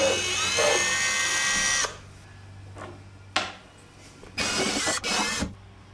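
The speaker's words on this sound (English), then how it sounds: "Let's get rid of them." A power drill whirs in several short bursts while backing screws out of a painted wooden chest of drawers, close and loud with brief pauses between runs.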